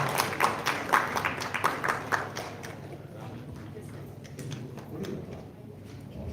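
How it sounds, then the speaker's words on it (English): Audience applause at a multi-stakeholder roundtable event opens as scattered, distinct claps, then thins out into a faint murmur of room noise and distant movement. "Clap, please, please."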